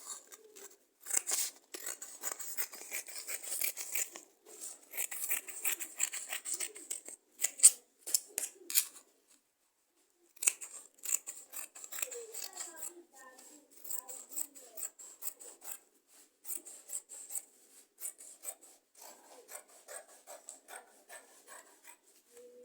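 Scissors snip and rasp through men's trouser fabric in a long series of close, crisp cuts with short pauses between strokes and one longer break partway through.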